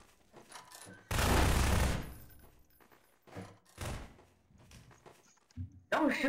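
Gunfire from the Prop Hunt video game: one long loud burst of shots, then shorter bursts and a few single thuds later on, with talk between them.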